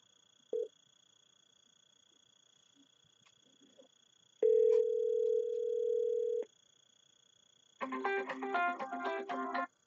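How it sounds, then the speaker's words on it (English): An Aastra Mitel 6867i or 6865i SIP phone makes an outbound call: a faint steady line tone and a click, then a sustained two-second beep, followed by a quick burst of dialing tones, with no voices. "We'll do an area code call to a cell phone"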